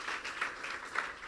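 Applause from a church congregation during a sermon, a brief, fairly faint wash of clapping with a few sharper claps standing out.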